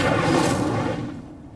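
An Incendio fire spell cast in a Hogwarts video game lands as a loud, booming whoosh that fades steadily over a second and a half.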